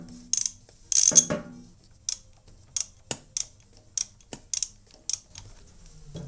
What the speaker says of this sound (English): these are in there really well, so I've had to break out my half-inch pry bar